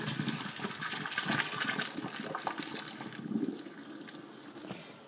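Pasta cooking water pours out of a pot into a kitchen sink, an irregular splashing gush that tapers off toward the end.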